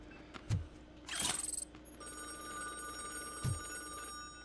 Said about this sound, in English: Now it's time to answer the phone call.